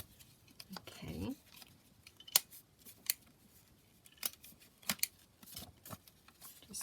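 Scissors trim the paper edges and round the corners of a handmade folio journal, giving a few soft, close snips spread across a quiet stretch with light handling rustle between cuts.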